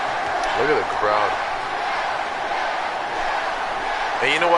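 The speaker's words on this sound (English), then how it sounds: "Look at the crowd." A packed wrestling arena crowd at WrestleMania 30 roars for Daniel Bryan during his match against Triple H, a dense, steady wall of cheering that holds loud throughout, with a few louder individual voices briefly rising above the din.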